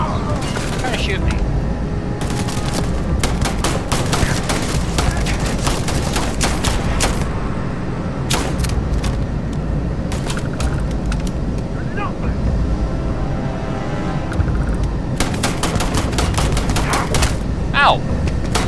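Sustained gunfire and explosions during combat in Starfield, a loud continuous barrage with dense repeated shots throughout, a player voice heard briefly over the din.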